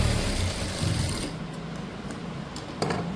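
A sewing machine runs steadily while stitching a blouse, its motor whirring continuously for about a second before easing into a quieter hum with faint ticks and a brief clack near the end.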